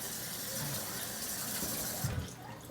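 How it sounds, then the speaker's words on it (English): Tap water runs steadily over cabbage leaves being rinsed, a continuous broadband hiss with a brief splash near the end as the flow shifts. "I'm going to rinse it."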